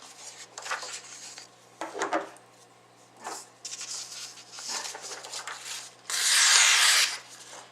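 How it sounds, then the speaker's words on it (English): A Kershaw folding knife blade slices through sheets of paper. Several short, dry rasping swishes come at uneven intervals, and the last cut is the longest and loudest. "as far as cutting paper, quickly just go through these"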